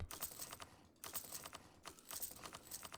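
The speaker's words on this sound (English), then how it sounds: "I hope it's not too bad regarding the clicking sounds on the stream." Rapid computer keyboard clicking in close, steady bursts of keystrokes with brief pauses between runs, during a stream of the strategy game Europa Universalis IV; no one speaks.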